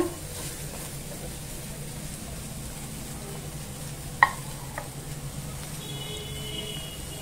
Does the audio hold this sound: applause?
no